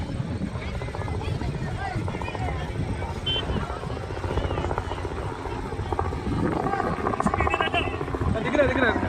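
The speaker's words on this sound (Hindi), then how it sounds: "तो आप अपनी स्क्रीन पर देख सकते हैं कि हेलीकॉप्टर्स अब कुछ ही पल में यहाँ" Helicopter arriving at a crowded wedding gathering in Barmer, a steady rotor chop and rumble building louder toward the end beneath crowd noise and talking voices.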